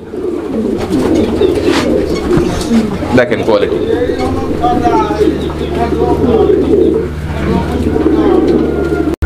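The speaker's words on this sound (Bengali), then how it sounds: "আরো এক জোড়া কবুতর আছে" Racing pigeons coo in low throaty bursts, close by and steady, while someone talks over them and a sharp handling noise cuts in near the middle.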